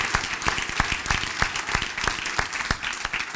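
A church congregation applauds loudly, a dense roar of many hands clapping at once, with sharper individual claps standing out in an uneven rhythm.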